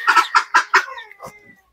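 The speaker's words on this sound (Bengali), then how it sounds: "এই যে হাঁসের বাচ্চা," Ducklings on a village farm give four quick, evenly spaced calls close by, followed by a couple of softer, trailing notes before falling quiet.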